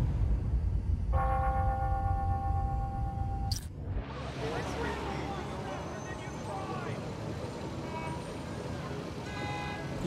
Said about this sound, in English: Ringing on the hour.